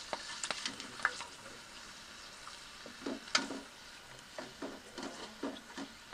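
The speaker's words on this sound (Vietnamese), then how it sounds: "bây giờ khi bỏ vào trong nồi thì nó phồng lên rất là ngon lành" Shrimp chips frying in a pot of hot oil, made by hand in the Mekong Delta countryside, crackle and sizzle steadily with scattered sharp pops as the chips puff up, moderately close and with no talk over them.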